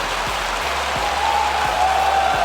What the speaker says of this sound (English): The Viking clap. They're calling to the crowd for it.